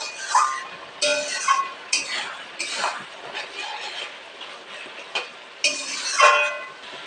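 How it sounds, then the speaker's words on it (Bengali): Spice masala being stirred and fried in a pan for ghugni, with boiled new potatoes: uneven scraping and clinking of a utensil against the pan in bursts, close and fairly loud, with a faint sizzle beneath and no talk. "মশলাটাকে আমি ভালোভাবে কষিয়ে নেবো"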